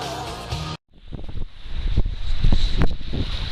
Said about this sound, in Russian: Ветер, конечно, очень сильный на реке.